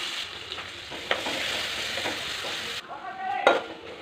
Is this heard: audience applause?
no